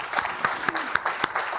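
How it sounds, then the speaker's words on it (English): A small audience at a keynote address applauds, with scattered claps standing out over a thin, steady clatter of hands, moderately loud and even in level for a short burst. "let's do another round of applause"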